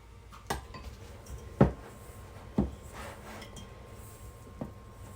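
A spoon knocks and scrapes against a mixing bowl while pie dough is worked, giving a few sharp clinks spaced about a second apart over a quiet room.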